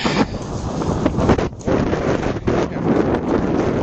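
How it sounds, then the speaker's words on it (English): Strong wind buffets the microphone in gusty, roaring bursts that rise and fall without any other clear sound. "It is windy."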